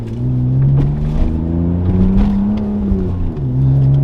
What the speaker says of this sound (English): listen to that muffler delete